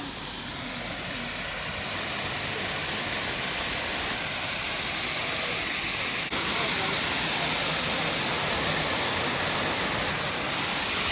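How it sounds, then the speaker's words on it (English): Waterfall in Montenegro, known locally as its own Niagara Falls, near Podgorica: a steady, loud broadband rush of falling water fills the scene without a break, with faint high tones drifting over it. "This is Montenegro's very own Niagara Falls"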